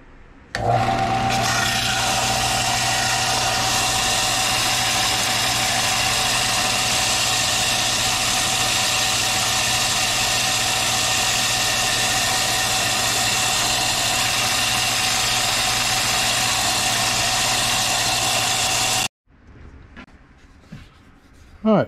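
A belt grinder runs loud and steady as it grinds a large Bowie knife blade, a continuous rasping whine with a constant hum beneath that cuts off abruptly near the end, leaving faint shop noise.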